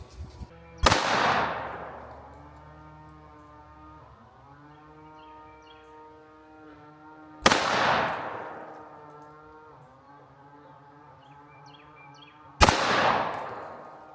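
Three loud, sharp shots from a Sig P365 X Macro pistol, fired as a group at a range, spaced several seconds apart. Each crack rings out sharply, with a tonal ringing hum lingering between shots.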